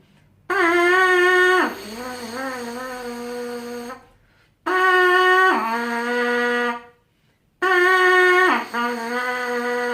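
Three buzzed brass notes on a bare trumpet mouthpiece, each going from G down to C, separated by short silences; close and fairly loud.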